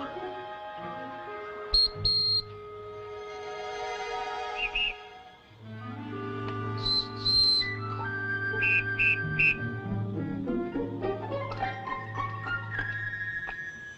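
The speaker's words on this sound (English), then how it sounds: "Whistle made from wing bone of eagle." A whistle made from an eagle wing bone gives a few short, shrill toots over a background of orchestral music, moderately loud and close.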